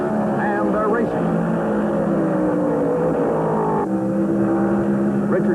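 NASCAR Winston Cup stock cars roar away from the green flag at Darlington Raceway's 1974 Southern 500, a dense, steady engine drone filling the whole stretch under continuous race commentary.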